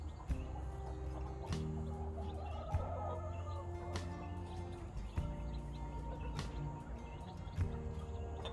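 Hens cluck softly on and off over a steady low background hum, with occasional sharper clucks standing out.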